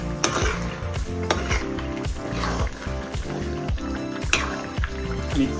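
A metal spoon scrapes and clanks repeatedly against a pan while chicken ghee roast masala sizzles, rhythmic stirring strokes about once a second over a continuous frying hiss, close and clear.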